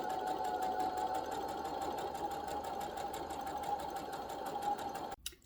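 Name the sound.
sewing machine stitching cotton fabric tote bag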